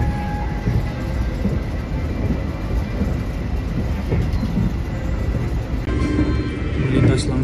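The KA Taksaka executive passenger train rumbles along the rails, a constant dense roar heard from inside the carriage, with a voice talking over it throughout.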